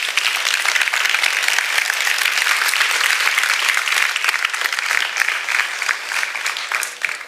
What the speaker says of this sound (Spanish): Si aprendiste algo, dan un aplauso, Señor.